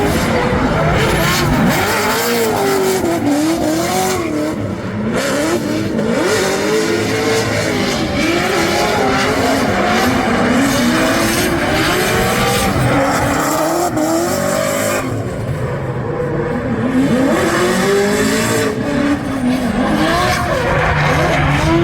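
A drift car at a Formula Drift competition screams through a run, tires squealing continuously and engine revving in rising and falling waves, loud and close throughout.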